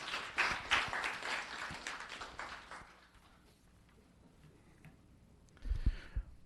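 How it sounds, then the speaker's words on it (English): Scattered applause at a town council meeting, faint and brief, quickly tapering into near silence, with a soft thump near the end. "A round of applause for Chloe Yang."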